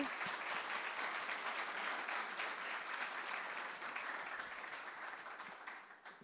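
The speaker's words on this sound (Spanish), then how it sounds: "Un aplauso si quieren saludar." An audience at a talk on getting out of economic crisis gives a guest speaker a sustained round of welcoming applause: dense, steady clapping from many hands that thins slightly toward the end, with no voices.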